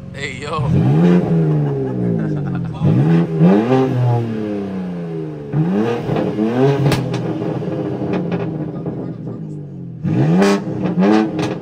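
A BMW G80 M3 with a custom exhaust is revved repeatedly, loud, close swoops rising and falling with intake and turbo spool sounds, while people talk over it.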